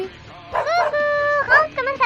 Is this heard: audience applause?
no